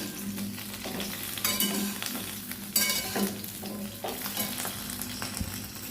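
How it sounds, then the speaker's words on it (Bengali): A spoon stirs jujube pickle around a hot pan, giving a steady close sizzle with scraping strokes and a few louder pushes through the mixture, with no voices. "নাড়াচাড়া করে নিই"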